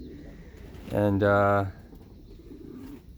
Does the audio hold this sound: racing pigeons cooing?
yes